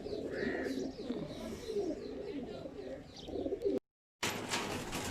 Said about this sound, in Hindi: ये जी खुरम भाई के नए परिंदे लेके आए हैं